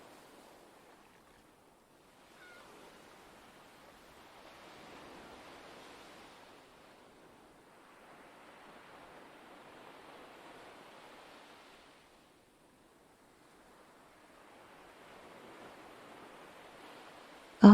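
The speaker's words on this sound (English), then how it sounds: "blending with the sounds of the winter sea" Winter sea waves roll onto a shore, soft washes of surf rising and fading in slow, regular swells with quiet gaps between them, faint and distant with no voices.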